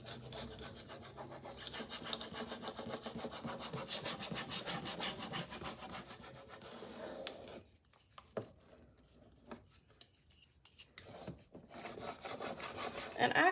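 A furniture transfer is rubbed onto a repurposed hutch door with quick back-and-forth scraping strokes, close and fairly quiet, that stop briefly and then resume.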